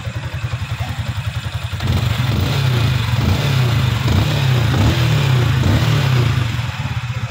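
A Yamaha Sniper 155 motorcycle engine, just after tensioner repair, idles with a steady, rapid low thrum, then runs a little louder and smoother, rumbling close by without a break.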